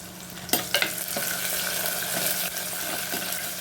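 Tomato, garlic and onion sautéing in a pan, a continuous sizzle broken by a few sharp utensil clacks and stirring scrapes, close and moderately loud with no talking.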